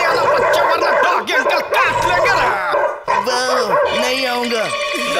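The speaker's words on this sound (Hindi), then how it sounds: "ये डॉगीज की आवाज कहाँ से आ रही है?" Dogs barking and yipping in a Hindi-dubbed Oggy and the Cockroaches cartoon, repeated yaps and whimpers close up, mixed with cartoon voices, music and busy effects throughout.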